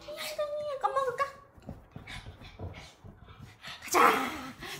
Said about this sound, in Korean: 강아지 이거 먹을까?